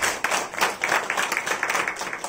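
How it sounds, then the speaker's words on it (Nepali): Congregation at a church sermon by Pastor Rudra Chettri breaking into rhythmic group clapping, a dense run of sharp claps pulsing steadily from start to finish, close and loud. "येशूलाई ताली बजाइदिनुहोस् त"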